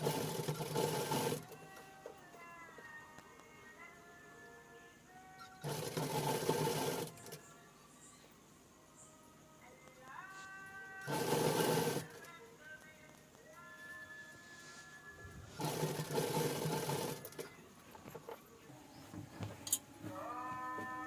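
A sewing machine stitches a frock made from an old sari, running in short bursts of steady rapid clatter separated by quieter pauses, faint and close, with no talk.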